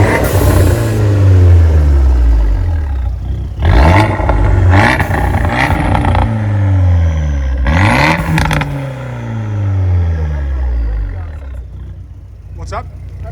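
Widebody Abarth 124 Spider engine revving and accelerating nearby, loud rising and falling engine sweeps with several sharp throttle blips, voices talking over it.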